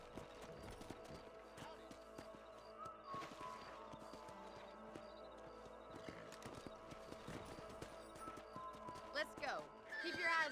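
Horse riding in Red Dead Redemption on a ranch, with rhythmic hoofbeats, occasional whinnies and neighs, and in-game voices talking over the scene against a layered ambient background.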